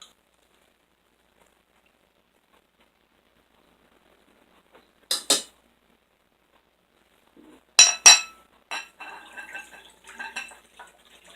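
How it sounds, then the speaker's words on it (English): Homemade jewelweed liquid being strained, heard as a few separate bursts of clinking glass and utensils, near and fairly loud, followed by lighter trickling and clattering sounds in an otherwise quiet room. "I'm going to strain it"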